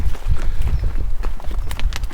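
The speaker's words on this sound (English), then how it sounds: "We still have proper modes of transport known as horses." Horses walking along a rural road, a close, loud and irregular clip-clop of hooves on hard ground running throughout.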